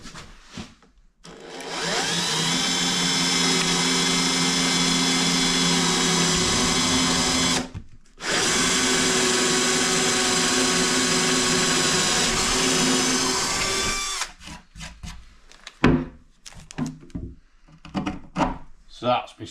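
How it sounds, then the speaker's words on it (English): A power drill bores a 6mm hole in a subwoofer box, a loud steady whine that runs for several seconds, stops briefly, then resumes before ending in clattering handling noises and speech. "So that's my 6mm hole drilled"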